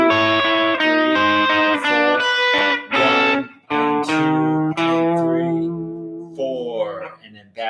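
Blues electric guitar lick played alone, loud and close, with a run of sustained bent notes that ends in wavering vibrato.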